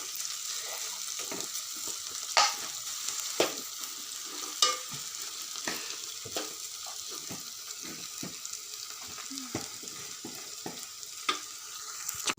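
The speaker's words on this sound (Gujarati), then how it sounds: "બધી મિક્સ સબ્જી ઉમેરી નાખી છે એ બધી મિક્સ કરી અને એને હલાવી બરોબરની ચડવા દઈએ" Mixed vegetables being stirred in a pan for a turmeric curry, a steady soft sizzle of frying with scattered scraping and clicking stirs, close and continuous with no talk.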